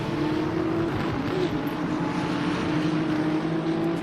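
Steady, continuous engine drone of LMP3 prototype race cars in the racing game Le Mans Ultimate, a sustained mid-pitched hum holding at constant loudness with no speech.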